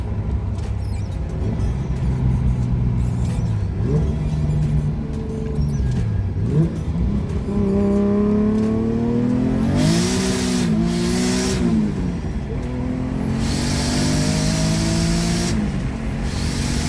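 A boosted car engine fitted with AEM smart coils revs hard up to 8,000 RPM, its rising, wavering pitch climbing through several pulls. A loud hissing burst follows near the end, close and without talk.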